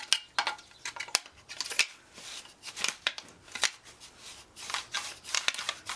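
A card scraper is drawn in repeated firm passes, giving short, close scraping strokes in an uneven rhythm with brief pauses between them, and no talk.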